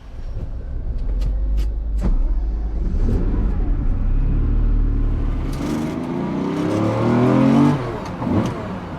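A Lamborghini Diablo SE30 pulls away and revs hard, its engine rising through the gears loud and close from inside the car, with a brief surge near the end.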